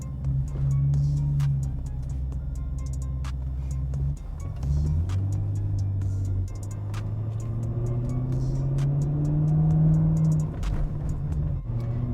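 A supercharged 2003 BMW E39 540i M Sport, heard from inside on a slow test drive after a front brake service, gives a steady low engine rumble with gentle rises and falls in revs and a few clicks and knocks.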